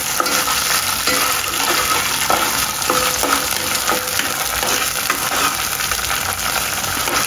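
Ginger and garlic, with a little coriander, sizzle and fry steadily in a pan, a continuous loud hiss with occasional soft clinks of stirring.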